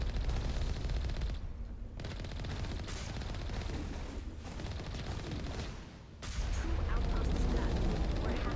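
Dense automatic gunfire from the video game Mass Effect rattles almost continuously, loud and close, with brief lulls before resuming, mixed with game effects.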